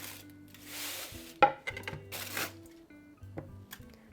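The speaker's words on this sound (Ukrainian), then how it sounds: "повертаємося до нашого бісквіта знімаємо фольгу" Foil is peeled off a sponge cake, giving close crinkling and rustling bursts with a sharp crackle midway, set against a faint steady background hum.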